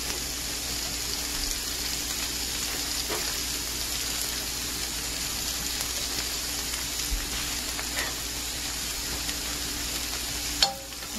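Half a yellow onion fries in a pot with a steady, even sizzle, a wooden fork stirring and scraping through it now and then, with a sharper clack near the end.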